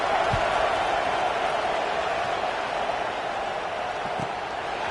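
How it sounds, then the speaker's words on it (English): A football stadium crowd in a Madden game, a broad steady roar and murmur of many voices that holds at an even level throughout, with a few faint thuds beneath. "this crowd is buzzing after that last score"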